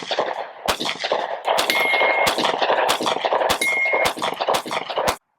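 Glock 43x pistol firing Blazer aluminum case ammunition, nine sharp loud close shots at an uneven pace over about five seconds, each with a ringing metallic tail and a brief clink between some shots.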